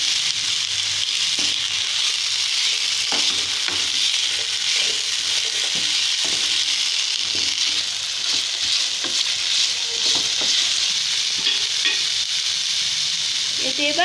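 Freshwater snails frying with tomato in a hot pan, a steady loud sizzle running throughout with occasional scraping stirs and soft crackles, no talking.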